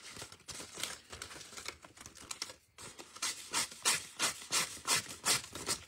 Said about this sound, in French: prenez une lime à haut angle et on lime un peu tout ça